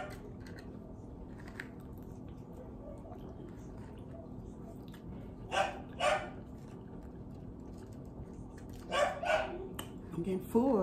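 A dog barks a few short times from off to the side, with clusters of sharp barks standing out against a steady low room hum.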